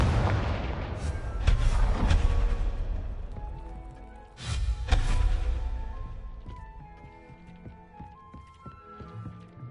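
A Confringo blasting spell in the Hogwarts Legacy video game sets off two loud booming explosions a few seconds apart, each followed by crackling debris and a fading rumble.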